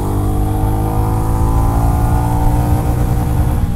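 A Royal Enfield Goan Classic 350 motorcycle pulls away in first gear, its single-cylinder engine producing a loud, steady, close-up thrum with a dense low rumble that holds throughout.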